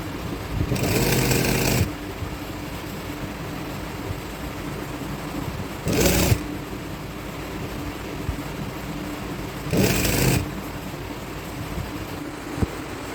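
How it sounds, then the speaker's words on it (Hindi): A sewing machine runs in three short bursts as small stitches go around a trouser hem, each run a loud steady whir lasting one to a few seconds, separated by quieter pauses. "हम चारों तरफ सिलाई लगा लेंगे घेर में।"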